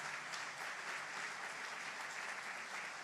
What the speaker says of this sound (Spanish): dan un aplauso a Dios por el testimonio